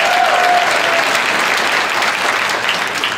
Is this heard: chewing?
no